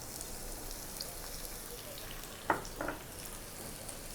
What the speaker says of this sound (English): just cook the onion for a couple of minutes or until it's nice and soft